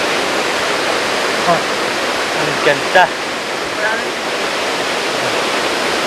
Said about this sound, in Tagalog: Ang ganda ng pagbagsak ng tubig.